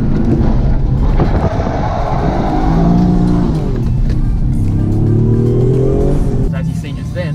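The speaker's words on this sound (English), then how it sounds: "the handbrake turn spun around, back wheel was just lit up" Toyota GR Yaris pulls a handbrake turn at a twilight rallysprint, engine revving hard and sweeping in pitch as tyres scrub around, loud and close with talk over the top.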